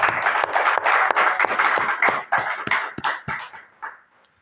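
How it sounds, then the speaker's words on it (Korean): A Korean Full Gospel church congregation at an Easter Sunday service claps to welcome newcomers, a close, lively patter of many hands that thins out and stops after about four seconds. "새로 오신 분들을 다시 한번 환영의 박수를 한번 올려드리겠습니다"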